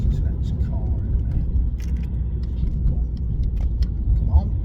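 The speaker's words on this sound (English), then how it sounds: "just let this car in" A car rolls past on a street, a steady low road rumble close by that swells slightly near the end, with light rattles on top.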